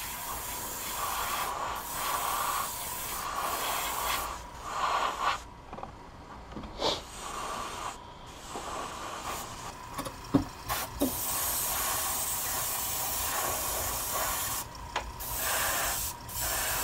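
An airbrush sprays a white base coat onto a bass fishing reel, giving a near, steady hiss that runs almost the whole time, broken by a few brief pauses and small clicks.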